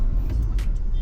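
Steady low road-traffic rumble heard from inside a 2018 Honda Civic FC RS Turbo stuck in Monday traffic near San Fernando, a constant engine and tyre drone with faint passing-vehicle swells, no talk.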